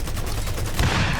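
Rapid burst of gunfire in the Mafia 3 video game, several loud overlapping shots in quick succession with a heavier blast near the end, no talk over it.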